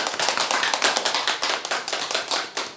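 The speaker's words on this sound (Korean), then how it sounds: "환영의 박수를." A church congregation at an Easter Sunday service applauds in welcome, a close, steady patter of many hands clapping with sharp individual taps throughout and no talking.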